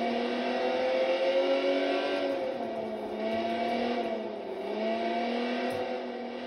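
An unmarked sheriff cruiser drives in Watch Dogs 2, its engine a steady droning hum with a slight rise and fall in pitch, loud and continuous with no voices.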